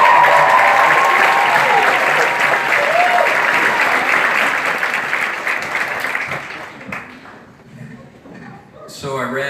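Loud, sustained applause from a large audience welcoming a speaker at a graduation ceremony, steady clapping that gradually thins out and fades toward the end.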